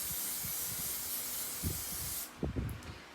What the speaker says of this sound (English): my pastels are protected from the spray